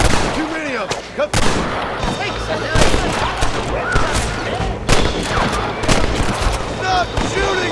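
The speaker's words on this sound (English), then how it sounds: "they're shooting at us!" Gunfire crackles through a Red Dead Redemption cutscene shootout, with rapid loud overlapping shots and bursts sounding near and far, while voices speak over the fighting.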